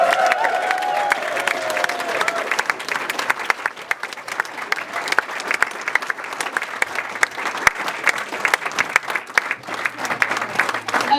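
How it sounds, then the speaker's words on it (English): Sustained applause from a large wedding crowd, dense and even, with claps continuing loudly from start to finish. "Can we please give them a massive round of applause?"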